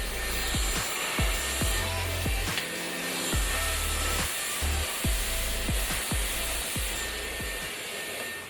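A hair dryer blows steadily while a round brush works through the hair, roots lifted and dried, with a constant airy roar broken by repeated short knocks and brush strokes.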